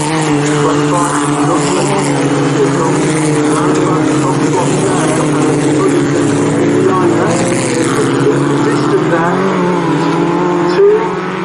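Race cars on the grid at Brands Hatch produce a loud, continuous engine drone with shifting pitch and revving, and a commentator's voice runs over it throughout.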